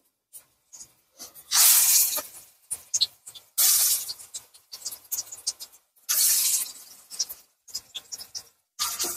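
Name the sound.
pakoras frying in hot oil in a wok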